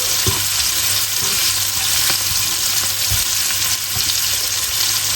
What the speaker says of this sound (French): Et on va faire griller nos crevettes des deux côtés